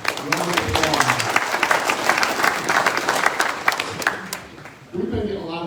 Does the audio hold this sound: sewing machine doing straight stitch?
no